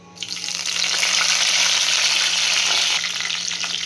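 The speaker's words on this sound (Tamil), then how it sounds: "கடுகு பொரிஞ்சிருச்சு. கருவேப்பிலை சேர்த்துடலாம்." Mustard seeds and curry leaves fry in hot oil in a pan for breakfast upma, a loud close crackling sizzle that rises quickly and holds steady throughout, with no voices.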